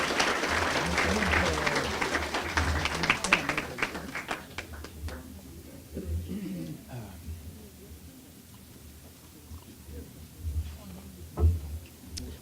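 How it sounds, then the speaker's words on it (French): An audience applauding after a talk on Canada's economic future, loud dense clapping that thins out over several seconds and gives way to scattered claps and someone speaking. "Vous êtes gentil d'applaudir avant que je réponde aux questions."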